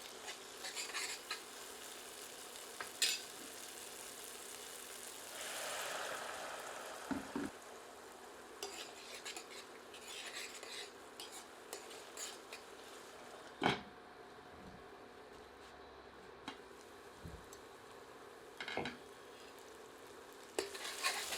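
Tomato masala with half a cup of added water simmers in a covered pan, a faint, steady low sizzle and bubble with occasional soft clinks and stirring knocks.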